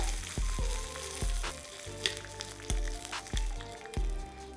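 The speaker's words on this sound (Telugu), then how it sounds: "సో ఈ పోపుని వేసుకున్నాం. ఒకసారి మొత్తం మిశ్రమాన్ని కలిపేద్దాం." A spice tempering is stirred into a cooked mixture in a pan, with a continuous sizzle and a series of sharp, regular clacks of a spoon against the vessel, fairly close and loud, with no talking.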